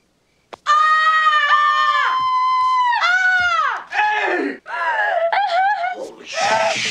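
A woman in a movie scene lets out a loud, sustained scream, then several more drawn-out screams and wails in quick succession, close and piercing.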